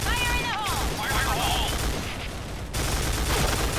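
An MK.46 machine gun fires in a video game, rapid bursts of close gunfire with a brief lull before the shooting resumes, a voice talking briefly under it.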